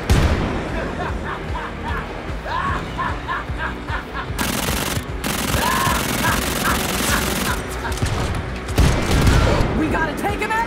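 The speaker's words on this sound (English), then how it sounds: "Submachine pistol! Really should have upgraded this little bullshit gun." Submachine pistol fire in the video game Wolfenstein: Youngblood: continuous rapid automatic bursts over a noisy battle, mixed with voices and some louder bangs.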